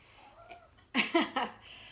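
A house cat gives a short meow or two close by, brief and clear in an otherwise quiet indoor room.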